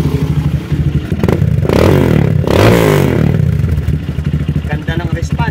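A Honda XR200 motorcycle engine with a freshly cleaned and tuned carburetor revs loudly up and back down in two sharp bursts, with idling and mechanical clatter around them and someone talking in between.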